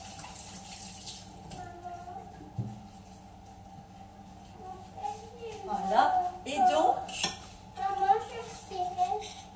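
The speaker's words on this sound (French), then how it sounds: "Je me lave les mains." Tap water runs steadily while hands are washed at a kitchen sink during cookie baking, a soft continuous splash with brief clinks of dishes, heard under a woman's speech that grows busier toward the end.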